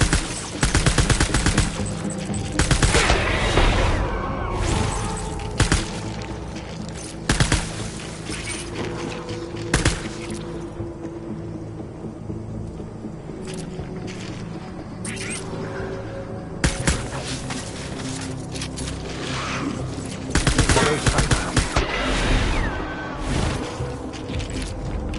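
Video game gunfire in Death Stranding, dense bursts of automatic fire and rapid shots in loud clusters, with mechanical clatter between volleys, close and continuous over a long stretch.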